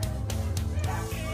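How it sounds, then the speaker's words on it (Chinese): Husky dogs and a litter of Husky puppies bark in a kennel, several quick, close barks and yips in a rapid run over a steady low hum. "那边也是一窝哈士奇。"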